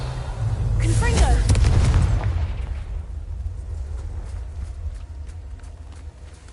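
A Confringo explosive spell blast in Hogwarts Legacy erupts loudly as a deep, rumbling boom with crackling debris, swelling over the first couple of seconds and then fading into a low, lingering rumble with faint game noises.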